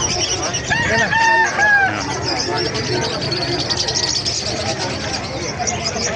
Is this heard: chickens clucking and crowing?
yes